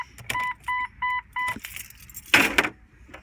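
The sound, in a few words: car keys jangling, put into the ignition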